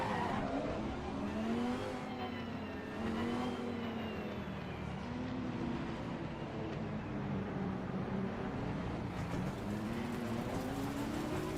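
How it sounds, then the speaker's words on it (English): Porsche race car engine in Assetto Corsa Competizione, racing at Imola, droning steadily with rising and falling pitch through gear changes, loud and continuous throughout. "Sounds like you're driving a Porsche"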